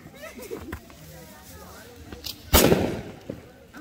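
A single sharp firecracker bang, a mortar-type cracker from a bag of them, bursts loudly near the end amid outdoor chatter and scattered smaller pops, with people talking throughout.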